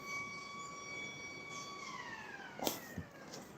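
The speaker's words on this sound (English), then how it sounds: "alarm for the local school here." A school's end-of-day alarm siren drones with steady tones outdoors in New Zealand, then slides downward in pitch and fades, with a couple of brief knocks nearby near the end.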